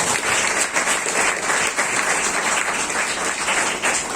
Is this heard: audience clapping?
yes